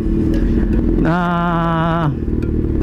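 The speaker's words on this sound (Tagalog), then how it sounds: "Tayo po ay nakamotor ngayon." Up close, a motorcycle engine rumbles steadily, and a sustained horn-like tone holds for about a second in the middle before the engine noise carries on.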